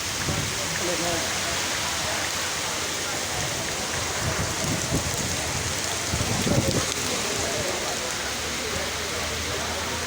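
Steady rain falling outdoors near a fish market, a continuous broadband hiss throughout with a few louder splashy bursts.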